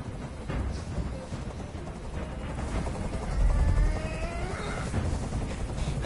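Helicopter in the video game Detroit: Become Human, a steady rotor drone that holds throughout and swells slightly in the middle, with a faint whine above the low rumble.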